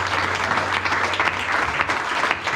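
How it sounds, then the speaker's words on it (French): A church congregation claps and cheers loudly for Jesus during a service, dense continuous applause with scattered shouts filling the space throughout. "Acclamons très très fort Jésus."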